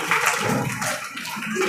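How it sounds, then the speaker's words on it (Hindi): Audience clapping at a government girls' senior secondary school Independence Day event, a dense steady patter of many hands with a few voices mixed in. "उनके लिए स्पेशली तालियां।"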